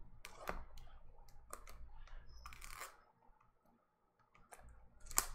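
Topps Opening Day 2019 baseball card hobby box being cut open, a run of close, scattered clicks, scrapes and crinkles with short pauses, fading to near quiet before a final sharp crackle.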